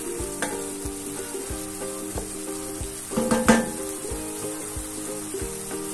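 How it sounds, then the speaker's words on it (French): Smoked pork chops sizzle in a casserole as they are mixed, a steady close frying hiss broken by scraping stirs that grow busier near the middle; no one talks. "Je vais ensuite mélanger tout ça."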